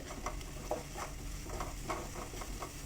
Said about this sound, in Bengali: ভালো করে মশলাগুলো মিক্স করে ভালো করে মশলাগুলো কষিয়ে নিতে হবে।